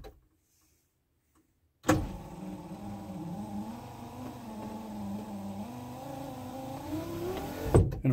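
A power rear window on a Jeep Grand Wagoneer, fitted with a new relay kit, starts its motor with a click and hums steadily for about six seconds before stopping with another click, close and fairly loud.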